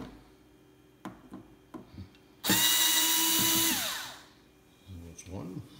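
A power driver spins briefly as it backs a screw out of an Akai MPC 3000 sampler casing. There is a single loud whirring burst of about a second and a half, framed by quiet clicks and handling noises.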